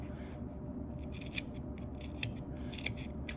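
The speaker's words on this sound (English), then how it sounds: "Again, being careful with using my scissors." Scissors snipping through stiff cardboard at close range, with several crisp cutting strokes over a low steady background hum.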